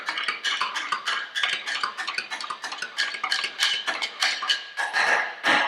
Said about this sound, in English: if you hold it up and you can still see some particles, then you probably want to give it a little more stirring